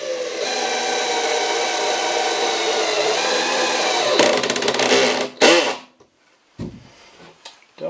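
A drill with a square drive bit runs steadily and loud while driving screws into soft wood on a painted chair build. The motor drones continuously, then slows and stops, and a few short scraping knocks follow.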